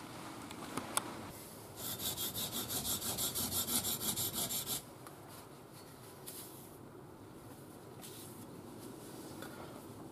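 A scandi grind knife being sharpened on DMT diamond stones, a run of quiet rhythmic scraping strokes close by, followed by softer sporadic scrapes.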